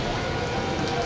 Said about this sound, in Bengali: তো বাবা ভালোই বৃষ্টি পড়ছে